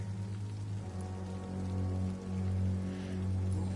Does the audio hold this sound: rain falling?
yes